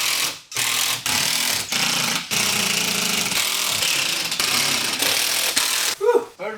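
A power screwdriver drives screws into wall boards in rapid bursts, each loud whirring run cut off by brief pauses, repeating several times close by.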